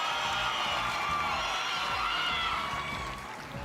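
An audience cheers and screams for the boy group Horizon during a Family Feud match, a loud, dense crowd roar that holds steady and eases slightly at the end.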